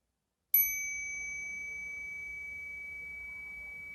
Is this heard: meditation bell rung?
yes